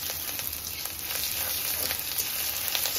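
Whole cumin, a dry red chilli, bay leaf and grated ginger fry in hot oil, giving a steady, close, bright sizzle that runs unbroken throughout.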